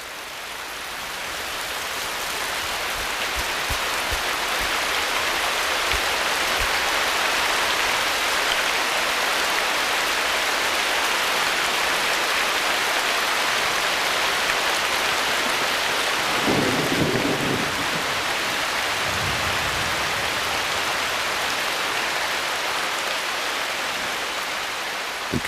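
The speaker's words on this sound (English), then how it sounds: "Regular downpours are essential for life in the forest." Heavy tropical downpour in a forest, a loud, unbroken roar of rain on leaves and ground, with a low rumble of thunder rolling through near the middle of the stretch.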